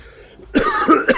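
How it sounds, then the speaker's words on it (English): Three short, sharp coughs in close succession, loud and near a small desktop microphone, with quiet background hiss before them and no talking. "How do coughs sound?"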